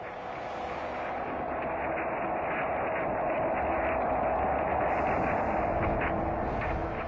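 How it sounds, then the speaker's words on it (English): Sonified solar oscillation data recorded by the orbiting SOHO satellite, heard as a continuous, dense roaring hiss with a steady low rumble, unchanging and without pauses. "Picked up by the orbiting SOHO satellite, this is the sound of the sun."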